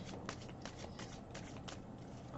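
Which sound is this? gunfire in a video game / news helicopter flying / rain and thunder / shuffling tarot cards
shuffling tarot cards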